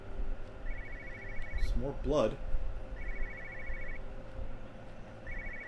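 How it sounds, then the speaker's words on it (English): In the video game Everybody's Gone to the Rapture, a telephone rings in repeated electronic trills, moderately loud over an ambient hum. A short gust of louder sound rises in the middle, and a voice speaks briefly. "I hear a phone."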